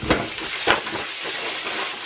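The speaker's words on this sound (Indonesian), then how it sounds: "Kita lagi goreng ini, Mas Fadil lagi goreng apa namanya, sosis" Sausages fry in a pan, giving a steady sizzling hiss with a couple of louder crackling bursts near the start, close and without talk.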